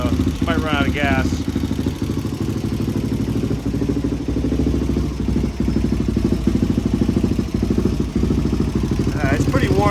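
Warmed-up HRC XR628R motorcycle engine running steadily at idle, a loud, close, throbbing mid-pitched rumble with mechanical clatter throughout and a couple of brief throttle blips.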